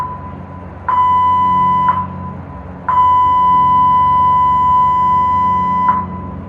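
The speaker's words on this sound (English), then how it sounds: "please stand by for the emergency signal" Emergency signal horn aboard a cruise ship sounding two long, loud electronic tones, each a few seconds long with a steady pitch, separated by a short gap and ringing over low background rumble.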